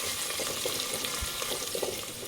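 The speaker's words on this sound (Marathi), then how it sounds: "आता हे सगळं आपल्याला छानपैकी फ्राय करून घ्यायचं आहे" Cumin, asafoetida, onion and okra fry in hot oil for a vegetable dalcha, giving a steady, close sizzle with faint stirring scrapes running throughout.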